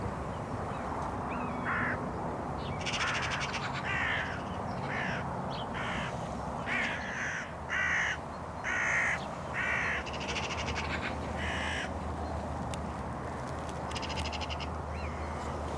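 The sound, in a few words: crows calling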